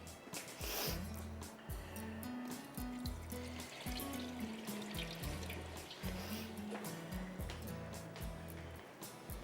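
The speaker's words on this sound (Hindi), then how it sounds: "चावल इसमें डालूँगी और ऊपर से थोड़ा सा और पानी डालूँगी" Water runs and splashes into a cooking pot of soaked rice, a steady tap-like stream with fluctuating gurgles throughout.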